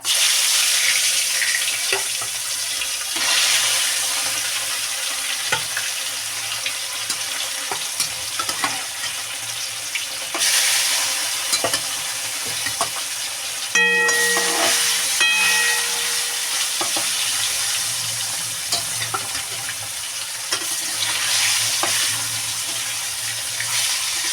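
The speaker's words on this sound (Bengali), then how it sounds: "তেলটা আমার গরম হয়ে গেছে তেল দিয়ে ধোঁয়া উঠছে এবার আমি মাছগুলো দিয়ে দেবো" Rohu fish pieces fry in hot, smoking oil with a continuous crackling sizzle, loud and close, broken by scraping stirs and a brief tonal beep partway through.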